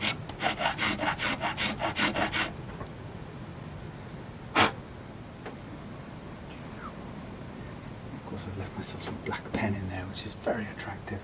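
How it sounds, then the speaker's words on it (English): A file rasps on the bone nut of a Fender Jaguar guitar in quick, rhythmic back-and-forth strokes, then stops. A sharp tap follows, then softer scraping and quiet talk near the end. "I'm pressing down to make sure that the file stays on the bone only"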